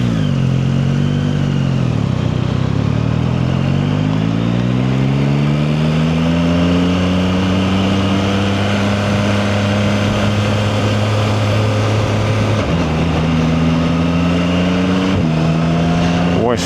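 A vehicle engine revs loudly and steadily climbing in pitch, drops sharply at the first gear shift, then climbs again with another brief shift near the end, droning continuously up close.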